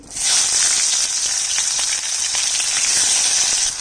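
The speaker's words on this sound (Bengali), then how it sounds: "একটু ঘি দিয়ে দিচ্ছি কাটা পেঁয়াজ দিয়ে দিচ্ছি" Chopped onions dropped into hot ghee and oil with dried red chillies, bay leaf and crushed whole spices sizzle loudly and steadily, a close, continuous frying hiss with no talking.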